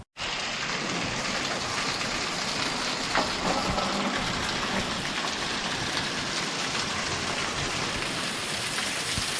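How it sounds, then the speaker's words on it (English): Steady rain falls in Georgia, a dense even hiss of drops on surfaces that holds constant and fairly close throughout, with no voices. "It's raining in Georgia."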